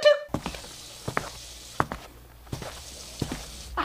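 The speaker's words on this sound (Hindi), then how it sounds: "तभी रूम में से बाथरूम की तरफ पैरों की आवाज आने लगी।" Footsteps used as a sound effect in a Hindi spooky story walk from a room toward a bathroom, an uneven series of close, thudding steps on a hard floor, with no voices over them.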